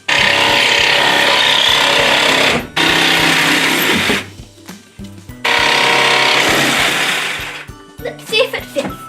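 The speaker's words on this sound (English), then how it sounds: "Now it's time to use the jigsaw cutter to cut it out." A jigsaw cuts a boogie board during a workshop build, loud buzzing bursts that stop and restart several times, with short pauses between cuts and a rattling, sputtering tail at the end.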